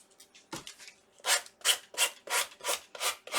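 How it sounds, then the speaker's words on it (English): Rhythmic scratchy rubbing of a sanding block over wood, a few light strokes then steady, evenly spaced passes, close up. "I want to do the same thing with my sanding block on here"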